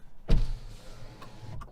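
A noisy power window motor on a cheap Chinese SUV gives a sharp close burst at the start, then a softer whir with small clicks near the end, loud and nearby.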